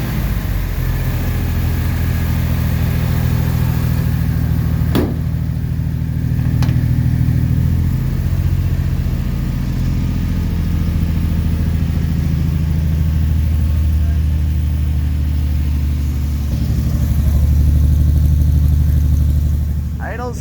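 A 1969 Jeep Willys CJ5 engine runs at a steady idle after a cold start following seven months of sitting, a close, loud low rumble that swells slightly a few times, with someone speaking over it.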